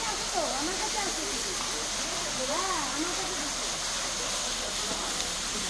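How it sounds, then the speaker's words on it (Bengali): A steady, loud rush of a waterfall in Meghalaya fills the whole stretch while people talk faintly over it. "ঝর্ণাটা মাথা দিয়ে পড়ছে, ফটোটা তুলি।"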